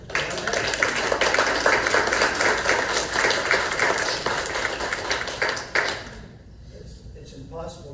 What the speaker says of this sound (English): give a big round of warm of applause for our guest speaker